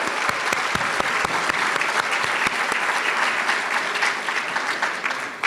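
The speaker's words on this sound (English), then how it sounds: "a big round of applause for our three dignitaries" Steady applause from a crowd at an annual general meeting's opening ceremony, dense clapping that holds at an even level throughout, with a few sharper individual claps standing out near the start.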